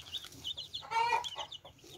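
Newly hatched chicks peep in high, thin chirps, a few quick calls and one louder cluster, faint and close in a quiet room.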